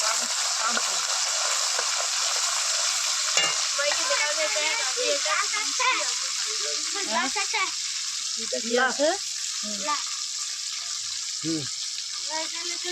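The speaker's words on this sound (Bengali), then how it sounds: "এখন গাজর ডিম সব ভাজা হবে এক এক করে" Carrots and eggs fry in a pan, a continuous bright sizzle running throughout while people talk over it.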